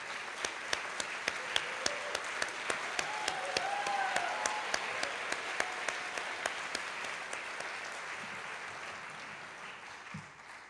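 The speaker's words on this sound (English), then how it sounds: "One more round of applause." At a college fine arts awards convocation, an audience applauds the standing award winners. Dense clapping carries a few sharp, evenly spaced claps standing out, then slowly thins and fades toward the end.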